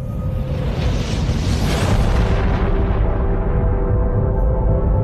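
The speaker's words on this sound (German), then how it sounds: "Ein unendlich dichtes, heißes, kosmisches Ei, das irgendwann explodierte." A huge, roaring explosion stands for the primeval cosmic egg bursting: a loud, broad boom that swells over a couple of seconds, then settles into a long, rumbling decay.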